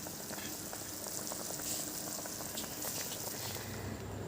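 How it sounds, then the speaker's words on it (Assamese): Assamese fish curry with elephant apple boils in a pot with a soft, continuous bubbling and light popping, close but fairly quiet. "আৰু এতিয়া এইখিনি ভালদৰে উতলিছে আৰু অলপ উতলি লওক"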